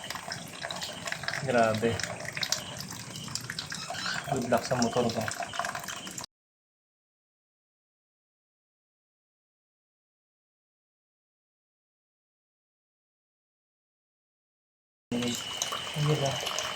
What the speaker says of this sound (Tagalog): Puro tubig na yung kumakatas.